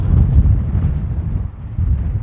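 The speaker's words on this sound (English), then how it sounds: "Oh man, it's windy." Strong wind buffets the microphone at an outdoor rifle range with a steady low roar and rumble, continuous throughout.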